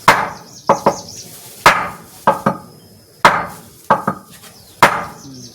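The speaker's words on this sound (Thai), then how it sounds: "ตอกหัวมัน" A crab's head being pounded with a small tool, giving sharp, loud, close knocks in uneven pairs and clusters, about ten strikes with quiet gaps between them and no talking.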